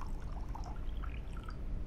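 Water pours into a glass in Cyberpunk 2077, a soft, steady splashing stream that runs without a break for about two seconds.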